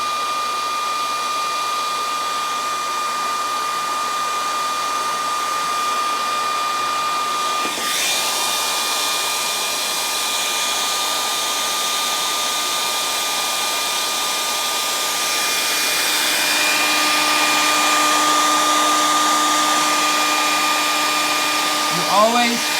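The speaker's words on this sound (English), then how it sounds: "You always want to preheat your motor, always." A heat gun preheats a nitro RC engine, a steady close blowing roar with airy hiss and a faint high whine that grows slightly louder near the end, running continuously without talk.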